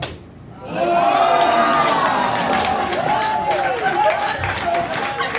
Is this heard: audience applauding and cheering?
yes